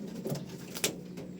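A soft pigeon coo sounds close by, a brief low murmur with a slight flutter or rustle midway, and no voices.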